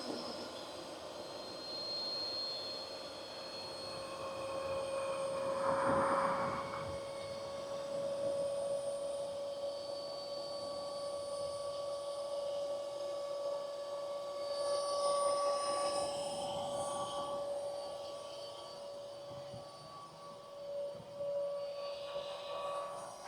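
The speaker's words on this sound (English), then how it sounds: "Set the machine on and let it deflate." A Zuxiga electric high-pressure two-stage paddle board pump runs while deflating a board, giving a faint, steady motor whine and airflow hum that holds throughout with slight swells.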